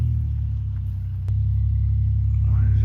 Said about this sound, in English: Oh, there's a truck driving through here.